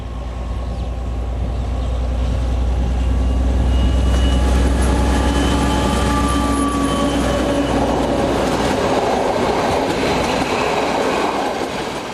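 A Class M62 diesel locomotive departs with a passenger train near Lake Balaton in Hungary, its heavy engine throbbing low and loud throughout while wagons rumble and click along the rails, the roar building steadily with no talk.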